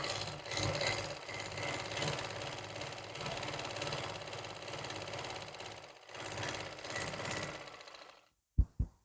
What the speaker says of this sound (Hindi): ये लगाएंगे हम इसकी सीधी सिलाई।